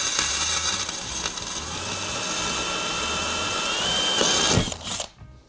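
A Bosch drill boring holes in ceramic tiles, running steadily for about four and a half seconds with a bright grinding whine and a low motor hum, close and fairly loud, then stopping abruptly.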